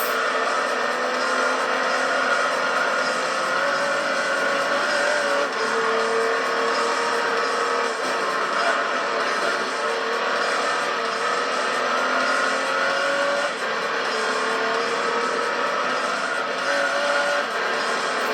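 A race car in the Gran Turismo 3 video game runs at a loud, steady high-revving engine drone for about eighteen seconds, with tire squeal and rising and falling pitch as the car shifts and corners.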